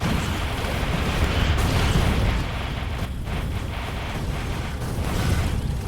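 Rockets launching in the video game Factorio at a huge megabase: a continuous, loud, broad rumbling roar with a slight swell and fade, heavy and steady with no talking.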